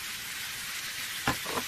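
Eggplant kebab sauce with black pepper, cumin, chili flakes and turmeric, sizzling steadily in a pan, with a couple of brief scraping stirs near the end, close and without talk.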